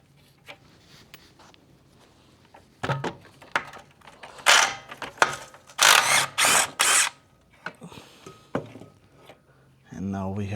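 Ratchet clicks and clacks loosening bolts on a John Deere Z355E riding mower, in short bursts with a few louder runs in the middle, alongside someone talking.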